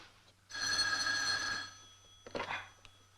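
A telephone rings in a 1962 police-drama office, a sustained electric bell tone lasting about a second, followed by a shorter second burst, heard fairly close against a quiet room.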